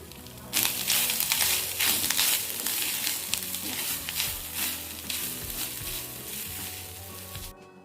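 Grated coconut and cashews sautéing in a pan for sweet kozhukattai filling give a steady, close sizzle with stirring scrapes and crackles throughout, fading out at the very end.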